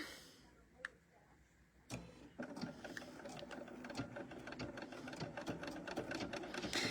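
A sewing machine runs a blanket stitch around an appliqué shape, starting after a few faint clicks and then whirring steadily with a fast mechanical ticking rhythm, close and fairly loud.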